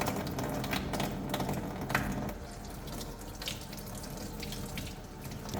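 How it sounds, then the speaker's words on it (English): Degreaser and water splashing over a Nissan Versa 1.6L PCV valve part, a close, steady rushing spray with scattered rattling clicks, no speech. "now I'm going to wash down that first cleansing with the degreaser"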